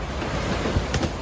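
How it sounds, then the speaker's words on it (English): Strong 25-knot wind and waves aboard a sailboat in the Gulf, a constant loud rushing roar with buffeting wind noise and occasional splashing surges, no talk. "we have 25 knots of wind coming right on our quarter aft"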